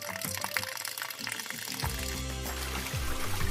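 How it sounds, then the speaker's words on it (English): Pasta water pours and splashes steadily as it is drained, growing fuller and louder halfway through as liquid streams out, with no voices. "Drain the pasta before you eat it."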